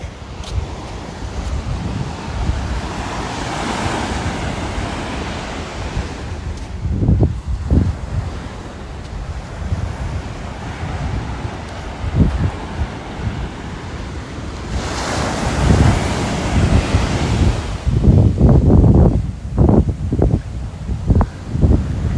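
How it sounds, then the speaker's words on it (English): Rough Atlantic surf at Humarock Beach, Massachusetts, roars and crashes with the incoming tide while gusty wind buffets the microphone, with a few heavier wave surges near the end and no voices. "Some rough water. Tide's coming in."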